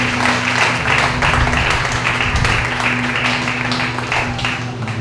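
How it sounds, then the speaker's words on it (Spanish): A church congregation at a Sunday school gathering breaks into loud, sustained applause, dense clapping filling the hall for several seconds with a low steady hum beneath. "Denle un fuerte aplauso a esa"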